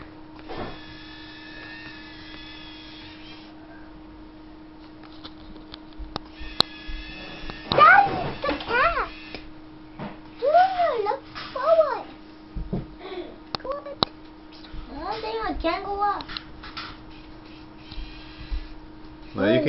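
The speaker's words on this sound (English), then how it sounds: "There's Junior, the cat! I see the cat!" A house cat meows several times, its calls sounding moderately close over a steady electrical hum, with a voice heard briefly during the stretch.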